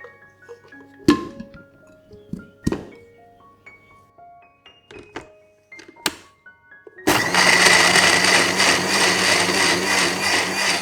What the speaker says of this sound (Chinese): 营养酵母、适量的盐倒入搅拌器里，搅打至顺滑的液体状态。